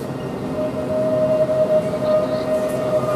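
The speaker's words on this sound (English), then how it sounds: "Now we've got another train coming in, which is the 1450 service to London St Pancras International." A high-speed train rolls into Stratford International station with a steady rumble, a sustained whine riding over the noise and a brief tone near the end, heard close without voices.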